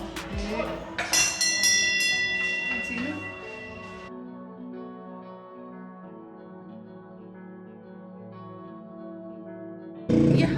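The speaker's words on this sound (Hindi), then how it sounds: "घंटी बजती है उससे" A bell in the hill town of Rewalsar (Tso Pema) is struck once after some clattering handling, then rings out with a long, clear, slowly fading metallic tone lasting several seconds before noise returns.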